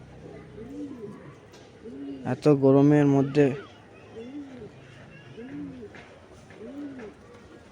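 Pigeons coo in a slow, steady series of soft, low, rolling calls, fairly close, with a louder burst partway through as someone talks over them.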